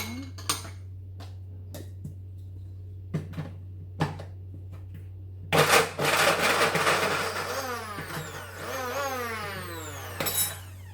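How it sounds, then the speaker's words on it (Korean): A kitchen blender grinds twenty garlic cloves for cabbage kimchi, starting after several clunks and taps and then running loud for about five seconds with its motor pitch rising and falling. "20알을 이렇게 믹서에다 넣고 제가 좀 갈겠습니다"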